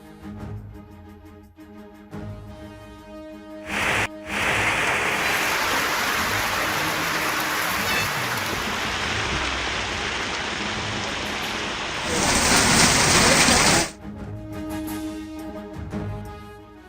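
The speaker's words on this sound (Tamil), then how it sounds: "தமிழ்நாட்டில் பகலில் வெயில் சுட்டரித்த நிலையில் மாலையில் பரவலாக மழை." Evening rain falls across Tamil Nadu after a hot day, a steady broadband hiss that swells louder near the end before easing back into a background of music.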